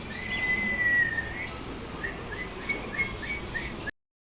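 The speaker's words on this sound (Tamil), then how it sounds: "விசில் அடி, ஒரு விசில்." A person whistles outdoors, giving one longer thin note and then several short, faint chirping whistles over quiet background noise.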